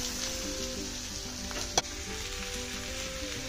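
Chopped onion and green chilli sizzle in hot oil with freshly fried fish, a soft, steady hiss throughout with one brief click partway through.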